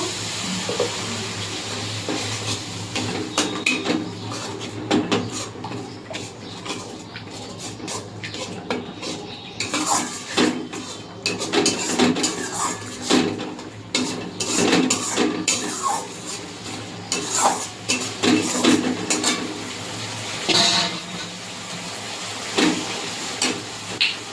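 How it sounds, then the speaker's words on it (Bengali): Cumin and coriander paste stir-frying in a pan with a splash of water, giving soft sizzling and repeated scrapes and clinks of a utensil against the pan in irregular bursts, fairly close and moderately quiet, with no talking. "মশলাটা ভালো করে কষিয়ে নেব"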